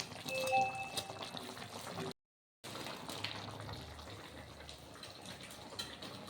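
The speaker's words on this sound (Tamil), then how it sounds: "இப்போ நல்லா கொதிச்சுட்டு இருக்கு." Mushroom masala with soy sauce bubbles in a pan, a continuous soft boiling hiss heard close up and cut by a brief moment of silence.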